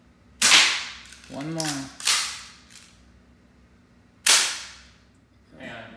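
A Valken Tactical airsoft rifle fires three sharp, snapping shots spaced a second or two apart, each decaying quickly. Someone speaks briefly between the shots.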